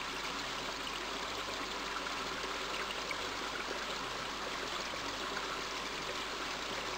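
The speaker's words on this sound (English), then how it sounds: "A wild river tumbles down from the eastern mountains and flows swiftly below the small town." A wild river in the King's Quest 5 game tumbles and rushes steadily, a continuous broadband wash of flowing water with no break, heard alone with no voices.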